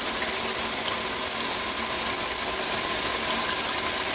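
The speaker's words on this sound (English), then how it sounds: "So we're going to wash this off for about 5 minutes" Water from a tap or hose runs steadily over a hydrographic-printed part as the film gel rinses off, a dense, even gush with no breaks and no voices.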